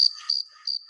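Crickets living in roadside grass chirp outdoors, giving three clear, high trilling bursts at an even pace against otherwise quiet surroundings.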